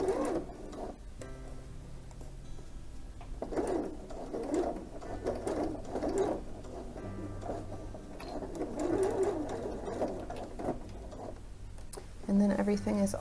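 Sewing machine stitching along the triangle edge of a single-fold welt pocket, a soft, fairly continuous mechanical whirr with small back-stitch stops, under a speaking voice throughout.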